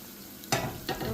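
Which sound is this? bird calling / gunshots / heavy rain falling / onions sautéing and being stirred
onions sautéing and being stirred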